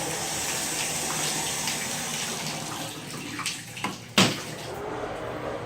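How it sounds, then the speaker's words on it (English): Water runs from a leaky shower head into the tub of a bathroom in a 2006 home, a constant rushing, splashing stream close by, with a few louder bumps near the end and no talking. "And you have a leaky shower head there."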